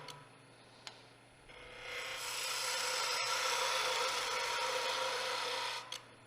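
A skew chisel cuts pine on a lathe, a steady hissing, scraping shave that rises after a couple of seconds, holds for several seconds near the microphone, then stops abruptly, with a faint motor hum underneath and no talk.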